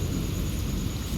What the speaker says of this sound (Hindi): बारिश जो है वो बहुत ज़्यादा तेज़ हो रही थी